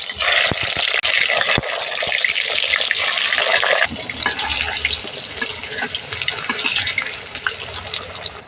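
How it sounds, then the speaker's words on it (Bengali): Brinjal slices frying in hot oil in a kadai, a steady loud broadband hiss and spatter that carries on throughout, easing slightly partway through. "প্রথমে বেগুনটা ভেজে নিচ্ছি"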